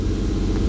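A Nissan VQ car engine gives a brief, loud, low rumbling rev up close, a thick, steady drone with no talk.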